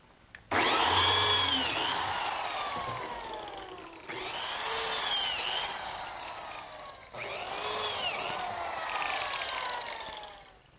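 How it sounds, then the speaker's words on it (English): Biscuit joiner cutting slots in cherry and pine, three loud whining bursts of several seconds each that spin up sharply and taper off, separated by short pauses. "So now I'll just cut some slots for the biscuits."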